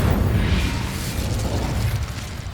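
An Incendio fire spell is cast in Hogwarts Legacy, giving a dense, steady roaring whoosh of flame with deep rumble throughout, close and loud for a couple of seconds.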